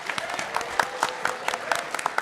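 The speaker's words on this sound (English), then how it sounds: "Give yourselves a round of applause on that one." A burst of applause from a live audience at a video game trivia show at PAX East 2025, brisk clapping steady throughout the short moment.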